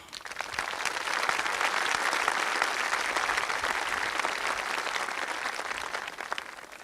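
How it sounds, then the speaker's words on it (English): Crowd applause at a college commencement ceremony, a dense, even wash of many hands clapping that holds steady at moderate loudness for the whole stretch and fades slightly at the end. "Give them a round of applause,"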